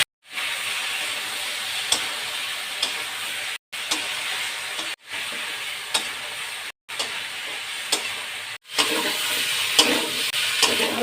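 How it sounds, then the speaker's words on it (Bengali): Spices frying with potato and green banana in a pan for a Bengali hilsa curry, producing a steady loud sizzle broken by several brief pauses, with occasional stirring clicks. "বাঘা আলু কাঁচকলার ভিতরে মশলা দিয়ে কষিয়ে নেব"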